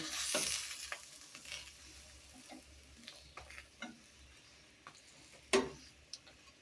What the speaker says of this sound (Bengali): এইখানে হলো ওই যে পরোটা ভাজতেছি মেয়ের জন্য